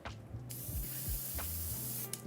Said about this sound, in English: Yeah, it looks like it's spraying clear now.